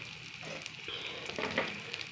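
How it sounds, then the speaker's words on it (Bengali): Sliced onions frying in a dry wok, giving a steady, close sizzle with light crackles and the scrape of stirring, no voices. "পেঁয়াজটা ভাজা ভাজা"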